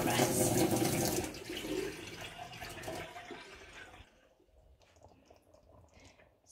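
Tap water runs and splashes loudly while rice is rinsed in a pan, a steady broadband rush for about three seconds that then fades to faint trickling and quiet handling sounds.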